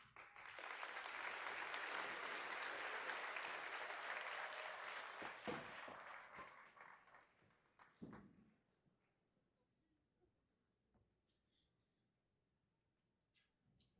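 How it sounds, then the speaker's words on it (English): Sustained applause from a large crowd at a high school graduation, loud and steady for several seconds, then fading out into scattered claps and quiet room noise. "can we give a big round of applause"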